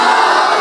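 A large crowd at a Bangla Islamic sermon gathering roars a chanted Allahu Akbar in unison, a loud, dense burst of massed voices lasting under a second.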